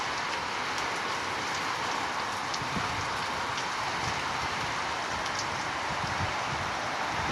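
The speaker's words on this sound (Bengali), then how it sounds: "আজকে প্রচুর বৃষ্টি" Heavy rain falling outdoors, driven by a southerly wind, a dense even roar of drops on surfaces that stays steady and close throughout with no voices.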